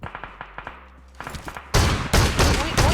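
Gunfire in PUBG Mobile: spaced single shots crack at first, then heavy, loud bursts of automatic fire sweep in near and close, with excited players talking over part of it.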